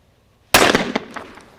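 A single sporting shotgun shot fired at a clay target, one sharp loud blast after a moment of quiet, followed by a short echoing decay.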